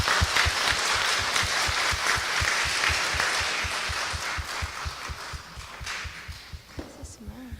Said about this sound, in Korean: 우리 환영의 박수로 맞이하겠습니다